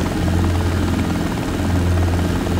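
Robinson R22 helicopter lifting off, its engine and rotor producing a loud, steady, continuous drone with a strong low thrum and no gaps throughout.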